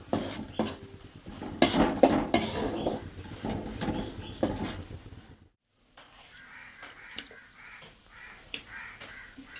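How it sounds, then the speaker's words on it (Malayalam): A Kerala prawn roast being stirred in a pan over a high flame, with clattering utensil scrapes and sizzling in the first half, then a quieter, sparser stretch of faint sizzle and clinks. "നമുക്കൊന്ന് ഇപ്പം ഹൈ ഫ്ലെയിമിൽ ഒന്നുകൂടെ ഇളക്കി കൊടുക്കാം"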